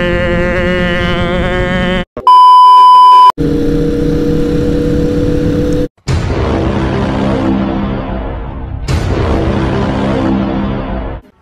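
Motorcycles ride along a mountain road toward Forca d'Acero in Italy, with loud, close engines revving and whining past in several bursts, broken by a brief electronic tone.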